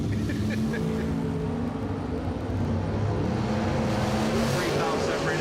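A Dodge Dart drag racing car launches down the strip, its engine roaring steadily and swelling toward the end, while an announcer talks over it.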